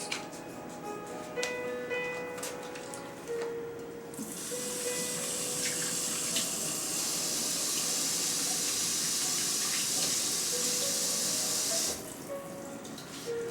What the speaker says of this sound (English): Get my soap. Wash those hands.